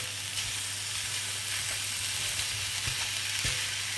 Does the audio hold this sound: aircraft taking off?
no